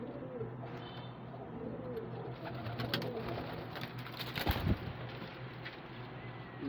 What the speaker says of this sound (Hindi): लो जी ये देखें जी कबूतर